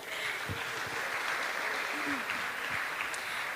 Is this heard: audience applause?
yes